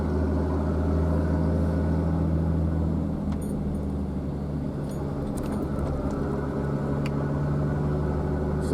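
A Nissan Patrol's RD28 diesel engine runs steadily at idle, a continuous low clattering drone that stays close and even throughout.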